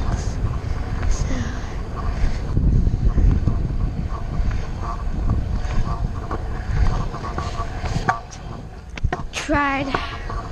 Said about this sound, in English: God, that's some heavy wind.